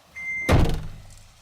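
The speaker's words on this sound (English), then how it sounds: "Close the door." A Toyota FJ Cruiser's driver's door swings shut with one firm, close thud after a steady door-open chime cuts off, and the thud fades quickly.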